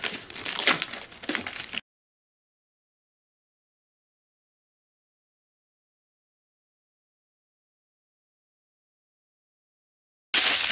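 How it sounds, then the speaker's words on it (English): A protective plastic film is peeled off a Pandora's Key 5S retro game console, a clone of the Pandora's Box 5. It makes a close, crinkly rustle for about two seconds, then silence, with another short crackling burst at the very end. "so let's just peel that off now."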